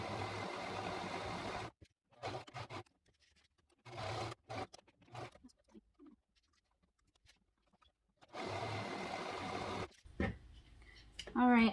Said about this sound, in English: I'm gonna go ahead and hem this skirt